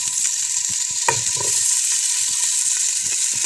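Potatoes fry in a hot pan, giving a steady, loud sizzling hiss throughout, with a brief clatter a little before the middle as they go in.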